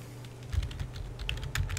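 Someone types a file name on a computer keyboard, with a quick, irregular run of soft, close key clicks over quiet background hum.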